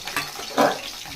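Curry leaves and onions sizzle in hot oil with mustard seeds and cumin in a pan, a steady hiss of frying with a brief louder crackling burst midway and no voices.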